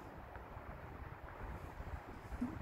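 Strong wind buffets the microphone outdoors at Michelham Priory, a low, gusty rumble that rises and falls unevenly throughout, fairly faint and continuous with no voices.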